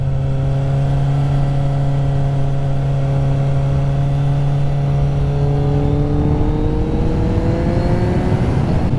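A Kawasaki Z800E naked motorcycle engine drones steadily under load while riding, with a rising pitch of harmonics toward the end as it accelerates, loud and continuous amid wind rush.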